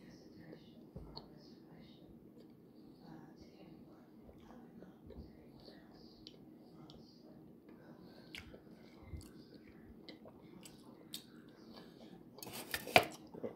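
A person chews a Fruity Pebbles and Apple Jacks cereal candy bar, soft close-up crunching and mouth sounds, quiet and irregular, ending with a brief sharper clatter.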